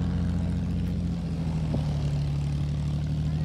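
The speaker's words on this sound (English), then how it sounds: "He is taxiing the aircraft to the northern end of the field." A propeller aircraft taxis at Point Cook airfield, its engine giving a steady, loud, close drone with a low hum that holds throughout and no voices.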